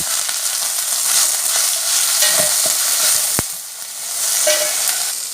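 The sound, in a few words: stir-frying drumstick leaves (moringa) in a pan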